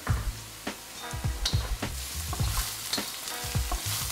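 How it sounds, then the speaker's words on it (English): Onions and garlic frying in a pan, a steady sizzle broken by rhythmic knocks and scrapes of a utensil stirring them at close range. "we're going to saute this for about 5 minutes"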